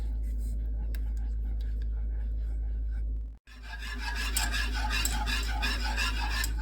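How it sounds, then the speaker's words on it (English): Melted chocolate ganache for a peanut butter cup pie is whisked in a bowl, a quiet hum at first, then after a brief pause fast rhythmic wire-whisk scraping and swishing, close and steady. "we switched off to a whisk just to get everything incorporated and smooth"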